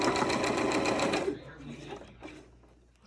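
A sewing machine runs in a steady fast burst, stitching fabric for a pair of Disney ears, then stops abruptly, leaving quiet handling noises and faint rustles.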